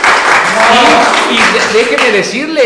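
Applause at a virtual university sports welcome festival featuring a fencing exhibition, a continuous wash of clapping running throughout while someone talks over it.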